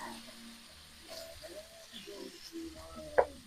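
Spicy lamb browning in a pan, a soft steady sizzle with a few stirring scrapes and a brief sharp clink near the end, close and fairly quiet.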